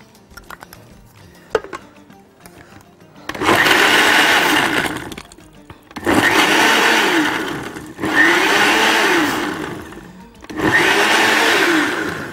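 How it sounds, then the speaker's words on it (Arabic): A kitchen blender whirs loud and close in four long bursts, crushing ice with orange and pineapple juice, with short pauses between each run and no talking. "واول ما نحب نقدمها نعملها على طول بالخلاط"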